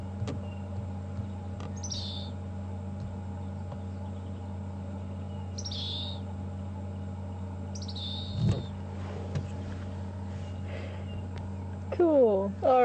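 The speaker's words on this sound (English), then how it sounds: "Chirping away there." Birds chirp on a morning safari drive at Djuma Game Reserve. Short, high calls come a few seconds apart over a steady vehicle rumble, moderately distant, while someone talks quietly.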